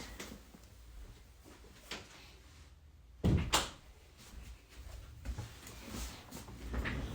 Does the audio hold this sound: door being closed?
yes